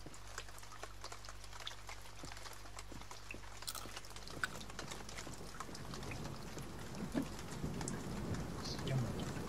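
Rain in the video game The Forest patters faintly and steadily, growing slightly heavier toward the end, with a low hum fading out early on.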